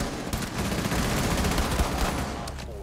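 Dense, continuous gunfire from a video game, a rapid volley of shots emptying a fifteen-round magazine, loud and close with no pauses.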